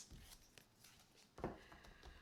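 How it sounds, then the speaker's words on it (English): A large, awkward deck of tarot-style cards is shuffled by hand for a card reading, giving soft papery riffles and a louder chunky slap of cards near the middle, fairly close and quiet. "I'm going to shuffle this awkwardly large deck on camera"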